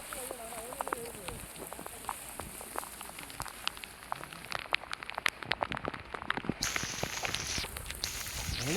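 Heavy rain pours steadily in a dense, hissing patter with sharp drops and splashes striking nearby surfaces, growing stronger and more continuous toward the end.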